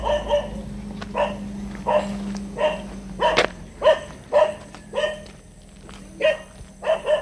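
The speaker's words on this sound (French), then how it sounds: "les chiens ils aboient beaucoup" Dogs barking in a steady series of about a dozen evenly spaced barks, moderately close, over a low background hum with no talk.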